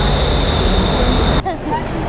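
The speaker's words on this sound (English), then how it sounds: "right here we're just gonna go take the SkyTrain" Bangkok SkyTrain running on an elevated line, a loud, steady rumble of the train close by that cuts off sharply near the end, with a high whine held throughout.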